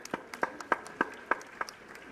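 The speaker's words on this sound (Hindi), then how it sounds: "एक बार जोरदार तालियां हो जाए।" At a school annual function, roughly seven evenly spaced hand claps sound at a slow, steady rhythm, crisp and moderately loud against a quiet room.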